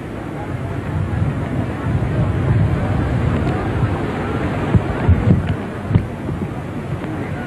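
A gentle wind blows across the microphone at an outdoor royal cremation ceremony for a Thai monk, a steady low rumble with a few faint knocks and distant crowd sounds.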